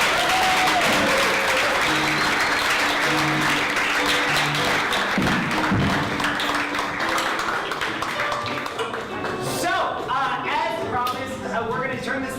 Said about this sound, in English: can you please do a big round of applause for our two amazing guests?